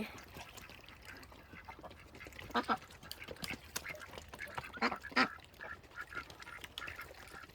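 Domestic Muscovy ducks kept on a farm give scattered quacks and a few sharper honking calls, mostly faint and close to the ground, with quieter stretches between bursts.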